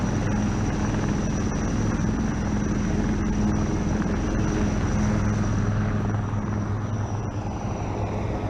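A Chetak helicopter carrying army commandos at a defence expo drones steadily, its rotor and engine roar continuous and fairly loud throughout, with no speech over it.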